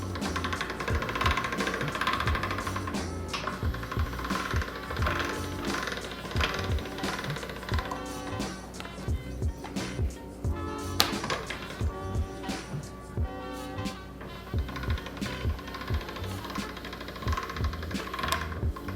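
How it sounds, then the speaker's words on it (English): A hand-cranked cartellate pasta machine rolls Barese cookie dough thin with a steady, rapid mechanical clatter and knocking, loud and continuous up close with no talking. "We're gonna feed it through the Cartellate pasta machine."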